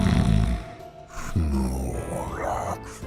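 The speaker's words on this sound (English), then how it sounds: "I heard the sounds of snoring." Sleeping Snorlaxes snore in a modded Minecraft world, deep rumbling breaths with a groaning rise and fall, loud and close, repeating in slow cycles.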